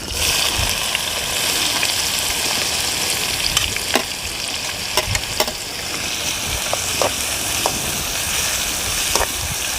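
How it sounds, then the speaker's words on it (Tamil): Finely chopped onions frying in hot oil with fennel, bay leaves and cinnamon for an egg kuruma, giving a steady, dense sizzle with occasional crackles and stirring scrapes throughout. "ஒரு 5 வெங்காயம் பொடியாக நறுக்கி வச்சுருக்கோம் இல்லையா? அதை அந்த எண்ணெயிலே போட்டு நல்லா வதக்கலாம்."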